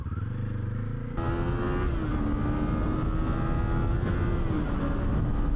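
A 2026 Kawasaki Z500 SE 500cc motorcycle engine revs hard and holds a high, steady roar, rising sharply after a second and staying loud and close throughout.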